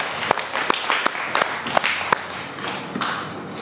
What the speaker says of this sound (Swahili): Makofi kwake jamani.